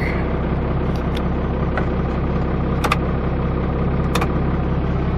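A 2018 RAM 2500 pickup with a six-speed manual idles close by, a steady, loud, even rumble with a few faint clicks over it.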